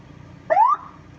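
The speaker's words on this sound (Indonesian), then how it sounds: "Kalau misalkan saya dibunyikan terlalu kencang, saya bisa digebukin di sini." A single short electronic ambulance siren whoop rises quickly in pitch and cuts off, sounding once against a quiet background.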